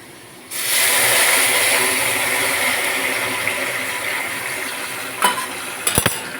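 Hot water poured into a pan of ground spice paste made from poppy seed, mustard and fennel for a shukto-style dish, giving a loud sustained sizzling hiss that slowly fades, with a few utensil clinks near the end.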